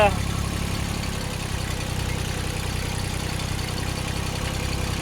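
A farm tractor's engine runs steadily in the foreground while it is being driven, a continuous low rumbling drone with a constant level throughout and no breaks.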